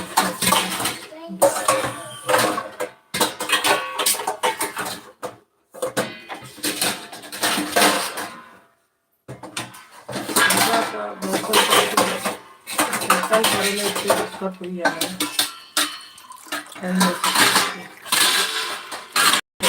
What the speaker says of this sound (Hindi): बर्तन सबके राख के बाद